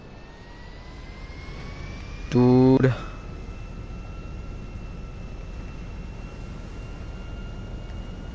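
A large airplane in the video game GTA 5 Online gives off a steady jet-engine drone throughout, with a short, loud tonal blip partway through and someone speaking briefly over it.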